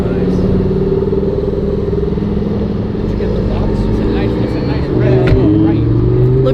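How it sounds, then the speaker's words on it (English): Lamborghini Huracán Performante and Porsche Turbo S supercars pulling away, a steady loud engine drone with a rising rev near the end, heard under background talk. "Looks like the Performante and Turbo S are leaving."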